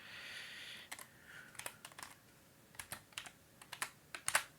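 Keys clacking on a computer keyboard as a DOS command is typed on a PC, a run of irregular, close, crisp clicks in short bursts with pauses between, no voices.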